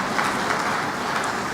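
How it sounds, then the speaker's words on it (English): Steady audience applause at an official opening ceremony, a continuous dense wash of clapping with no break, moderately loud and without talk over it. "let's give him a resounding applause"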